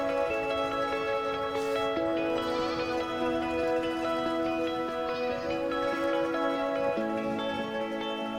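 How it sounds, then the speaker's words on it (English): Goat bleating on a Greek hillside on Amorgos, a run of wavering, drawn-out bleats close by, shifting pitch in steps over several seconds with no talk. "Don't know if we're going to catch that goat, Anna."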